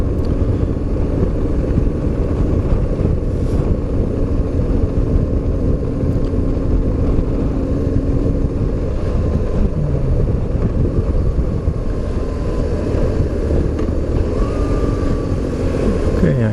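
A BMW R850R motorcycle rides steadily along a narrow road, its engine drone and wind rumble continuous and loud throughout with no break.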